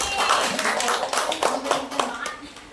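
Clapping in a classroom, a group of children beating their hands in a fairly rhythmic, pulsing pattern, close and clear, with faint kid voices mixed in.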